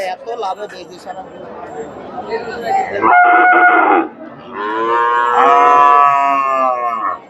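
A Friesian cross heifer moos loudly twice in long drawn-out calls, with people talking in the background of a busy cattle market in Chandaikona, Bangladesh.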